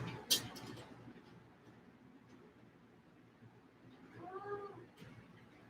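A cat meows once, faint and somewhat distant, against low room noise, with a short sharp clatter at the start.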